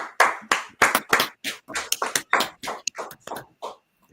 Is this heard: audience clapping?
yes